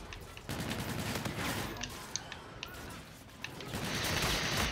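Rapid bursts of automatic gunfire from the shooter Call of Duty: Infinite Warfare crackle throughout, loud and close, with several sharp single shots standing out amid the continuous firing.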